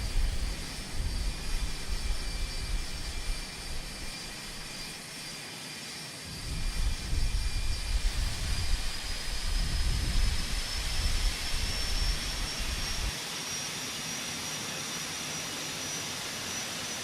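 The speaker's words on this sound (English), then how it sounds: "Let's go and start the right engine." The right jet engine of a Boeing 777 spools up in the X-Plane 12 flight simulator, a loud continuous roar and rumble with a steady high whine that holds and rises slightly over the whole stretch, with no voices.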